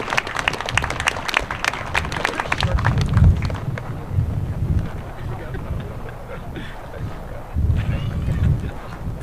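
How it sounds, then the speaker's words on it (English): An audience at a civic gathering breaks into a burst of clapping that swells early and fades, with people talking over and after it. "let's give Senator Thune and Ben Reddy a round of applause."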